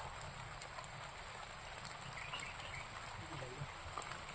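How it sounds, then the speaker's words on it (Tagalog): Faint, steady rain patters in the background, a soft continuous hiss with no voices. "Umuulan na."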